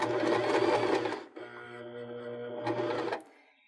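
A sewing machine stitches near the corner of a cork fabric pillow in two loud, brisk bursts of rapid needle chatter, separated by a softer steady motor hum during a short pause.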